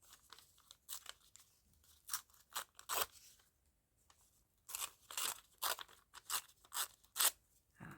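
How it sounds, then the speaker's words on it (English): Paper torn from a dictionary in a series of short, crisp rips, in two bursts separated by a brief pause, close and fairly quiet. "That nice sound of tearing paper."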